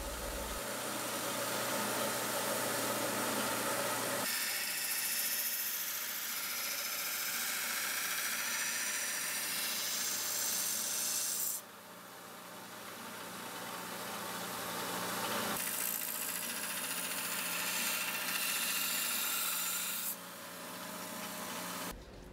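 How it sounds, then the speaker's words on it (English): Steady, harsh grinding hiss as bevels are ground into a leaf-spring steel Bowie knife blade, running continuously for a long stretch, briefly pausing and shifting in tone a few times, with a low motor hum underneath. "then I went to trying to grind the bevels"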